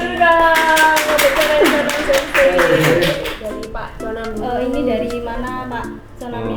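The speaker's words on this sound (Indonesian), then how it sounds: "Tepuk tangan dulu dong untuk channel Jonam Sensei" A studio audience at a talk show claps in a quick patter of hand claps, layered under a loud voice and background music.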